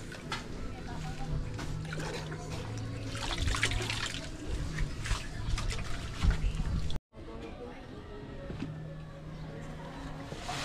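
Water trickles and sloshes in a deep septic tank pit being dug on a building site, running steadily under voices and other site noise, with a brief break partway through.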